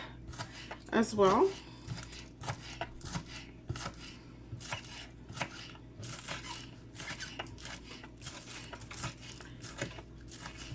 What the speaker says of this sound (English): The green onions, I'm also cutting it up